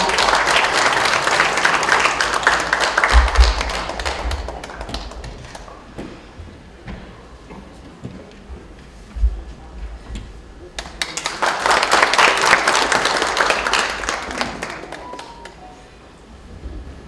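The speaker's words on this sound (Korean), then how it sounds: "여러분 큰 박수 부탁드리겠습니다." Applause from the audience at a book-launch talk concert, a loud sustained wash of clapping that fades to quiet in the middle before a second strong swell rises and tapers off.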